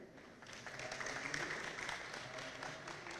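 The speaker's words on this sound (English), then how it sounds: "thank you for that lukewarm round of applause" Lukewarm applause from an audience at an educator academy session, a soft, steady patter of scattered clapping that swells slightly and then holds at a moderate, somewhat distant level.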